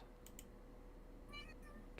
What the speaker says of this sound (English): Yes, that was one of my kitty cats.